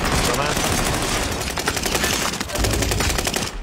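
Rapid bursts of automatic gunfire from a shooting video game go off close and loud, nearly without pause, while players talk over the shots.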